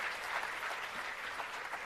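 Steady crowd applause from an audience at a college centre-of-excellence launch event, dense and continuous with no pauses, heard alone without speech.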